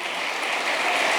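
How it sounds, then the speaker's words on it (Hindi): An audience at a Safeshop recognition ceremony applauds loudly for Mr. Yadav, thick continuous clapping that stays close and even throughout, with no talking over it. "अरे यादव जी के लिए जोरदार ताली बजाओ।"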